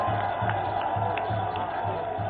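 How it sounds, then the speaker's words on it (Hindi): A large rally crowd at a Bihar assembly victory celebration cheers and claps as the Prime Minister's convoy arrives, a loud, continuous roar with scattered whoops and no clear speech. "प्रधानमंत्री जी का काफिला आ गया, तालियों के गड़गड़ाहट लगातार चलती रहनी चाहिए।"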